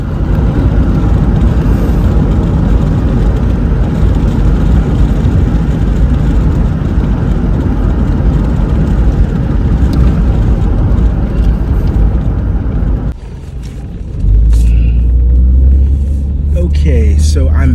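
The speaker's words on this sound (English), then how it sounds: "The van seems to be driving properly." A van driving on the road produces a loud, steady interior rumble of engine and road noise, briefly dropping before resuming with a deeper low drone.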